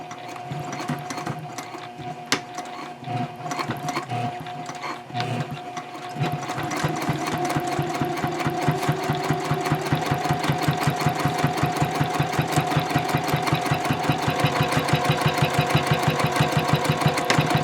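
A sewing machine sets a 3.0-length straight stitch an eighth of an inch from the fold of a messenger bag panel. Sparse clicks come first, then a steady, fast, loud mechanical chatter that runs unbroken to the end.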